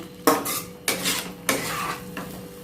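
A metal spoon scrapes and clinks against a pan while spiced gravy is stirred and fried, four or five rough strokes in a row over a faint steady sizzle, close by and without talk.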